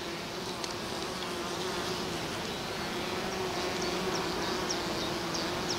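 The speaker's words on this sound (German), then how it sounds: "Ja, die Bienen gibt es noch." Honey bees hum around their hives in a continuous, even buzzing drone, close and steady, with no voices over it.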